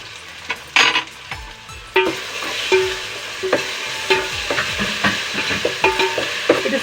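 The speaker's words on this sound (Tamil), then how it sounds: "சேர்த்து இது நல்லா கோல்டன் ப்ரௌன் ஆகுற வரைக்கும் கொஞ்சம் ஃப்ரை பண்ணிக்கலாம்." Onion and garlic paste, ground with coriander, curry leaves and dried red chillies, sizzles and fries in a pan, with repeated sharp scraping stirs of a spoon against the metal throughout, close and fairly loud.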